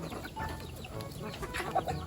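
Pet chickens clucking in a farmyard, short soft clucks scattered over a low background murmur, fairly quiet and close.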